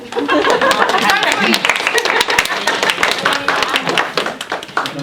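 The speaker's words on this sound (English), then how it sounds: "Yeah, everyone clap." Audience at a live talk clapping, a spread of quick sharp claps from many hands with chuckles and chatter mixed in, close and lively throughout.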